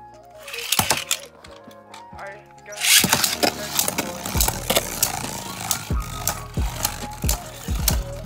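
Beyblades clash inside a stadium, a Dead Hades on a turn bearing against a Salamander on zero cross atomic, with repeated sharp, heavy metallic hits over a steady spinning whir, close and fairly loud.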